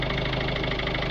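A Ford Transit Connect 1.5 TDCi diesel engine idles with the bonnet up, showing an exhaust filter fault, giving a steady close rattling clatter with a regular knock and no voices.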